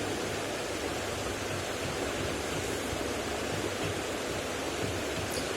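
Water boiling in a pan on a stove while rice-flour dough for crispy thattai snacks is prepared; a steady, dense rushing bubble fills the clip at even loudness, with no talking.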